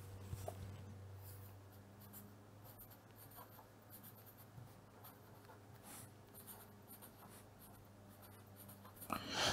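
Pen or marker writing on a surface during a programming lecture, faint scratchy strokes repeating in short irregular bursts over a low steady hum, with no talking.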